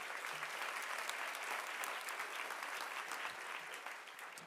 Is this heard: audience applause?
yes